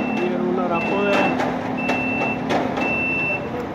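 An automatic car wash plant in Dera Ghazi Khan opening up as its rollers lift: a steady mechanical hum with a repeating electronic warning beep sounding at regular intervals, close and fairly loud.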